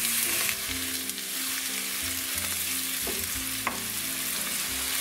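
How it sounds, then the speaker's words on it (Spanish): Mushrooms sauté in hot oil in a pan for creamy mushroom rice, giving a steady, close sizzle throughout with occasional soft stirring scrapes and a sharp tap near the end. "A continuación le pongo las setas."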